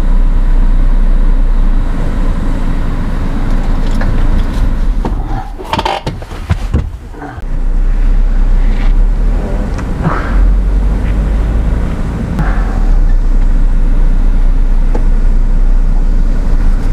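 A Volkswagen Crafter van on the move, with a steady, loud engine and road rumble throughout and a brief dip in the noise near the middle. No one speaks.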